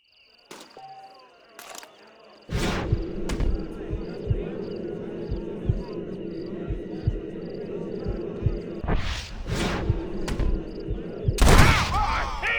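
A video game shootout in a Western setting, where a rapid string of sharp gunshots rings out over a steady low drone, with a few louder cracks near the end and voices heard in between.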